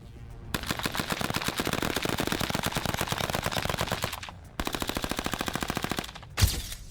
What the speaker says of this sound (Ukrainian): По готовності одною сплошною очередю, не відпускаючи пали з гачка.